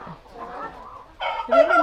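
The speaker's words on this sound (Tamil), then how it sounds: "இது வந்து இந்த கொங்கு மண்டலத்துடைய பாரம்பரிய சேவல்" Traditional Kongu region rooster on a farm giving short, throaty clucks that grow louder and harsher toward the end, heard close up with no one speaking over it.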